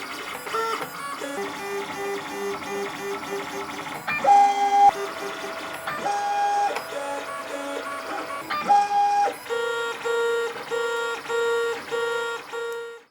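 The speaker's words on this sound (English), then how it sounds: "So you can hear the other pieces printing" A 3D printer turning out cosplay armor parts whirs and chirps with tonal stepper-motor runs that shift pitch in short repeating bursts, a steady mechanical melody heard close and alone.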